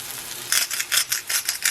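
Potatoes frying in oil give a close, crackling sizzle in a few quick pulses of stirring, with no voices over it.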